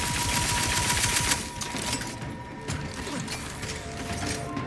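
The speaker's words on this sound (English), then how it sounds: "I like the reload animation on this rifle" Rifle reload in the game The Outer Worlds 2: a dense run of mechanical clicks and ratcheting clatter over continuous combat noise, busiest at the start and then steady.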